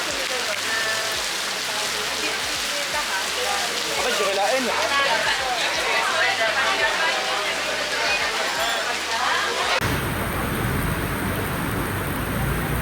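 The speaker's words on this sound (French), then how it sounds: "Et deuxième mauvaise nouvelle, il pleut." Rain falls steadily in the Philippines, a constant hiss of drops on surfaces throughout, with people talking over it before the sound shifts abruptly near the end.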